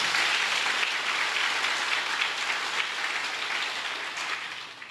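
An audience at a Buddhist sutra lecture claps together, a dense, steady wash of applause that holds for several seconds and tapers slightly at the end.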